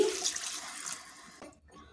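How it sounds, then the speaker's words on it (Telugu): Water is poured into a pot of mutton curry. It makes a soft, splashy pour for about a second and a half, then falls to near silence. "ఇప్పుడు దీంట్లోకి వాటర్ వేసుకోవాలండి"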